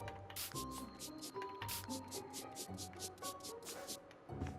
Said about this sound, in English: As I randomly spray there?